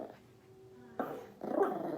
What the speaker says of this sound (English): She's going to interrupt my life by going crazy and barking.